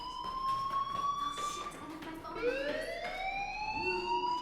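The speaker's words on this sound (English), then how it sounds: "Hey, do you hear that fire alarm?" A fire alarm in the video game Life is Strange, a loud continuous electronic wail that rises and falls, sounding steadily throughout.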